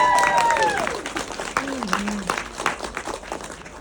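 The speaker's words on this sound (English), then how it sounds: "I expect a louder applause than that" An audience at a film Q&A claps and cheers loudly, with whoops and calls rising over a steady patter of applause.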